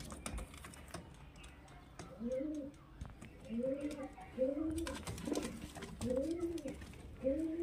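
Madrasi and Kalshira highflyer pigeons coo in repeated soft, throaty phrases at a steady rhythm, close by, with scattered clicking and rustling noises in the background.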